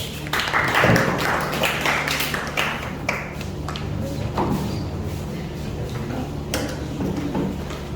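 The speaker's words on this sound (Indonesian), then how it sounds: "Tepuk tangan dong buat kelompok D." Applause for group D in a classroom, scattered uneven hand claps from a small group, loud and close at the start and then thinning into sporadic claps, with faint murmuring beneath.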